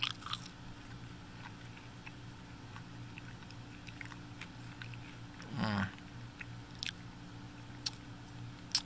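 A single crunchy bite into a soggy, grease-coated Taco Bell nacho fry, one brief close burst after a stretch of low background hum, with no talk.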